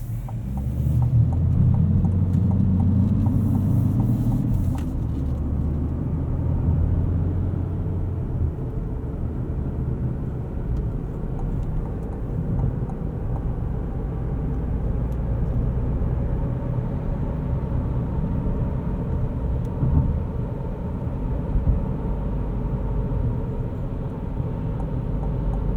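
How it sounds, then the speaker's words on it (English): A 2026 GMC Terrain AT4 SUV driving normally on a warm day, heard from the cabin: a low, steady rumble of engine and road noise, a bit louder at the start before settling into an even drone. "Give you guys some normal driving here in the GMC Terrain."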